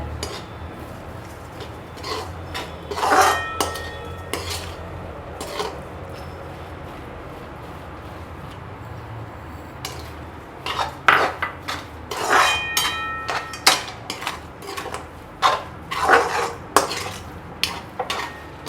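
A spoon scrapes and clinks against a pan while sugar and cardamom powder are stirred into semiya kesari, bursts of metallic knocks and scraping separated by quieter pauses, close and without talk.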